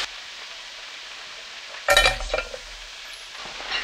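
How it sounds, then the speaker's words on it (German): Sausages sizzling in a pan at a campfire hut, with a burst of clinking and stirring midway, then a soft steady hiss returning near the end. "Ein paar Würstchen braten"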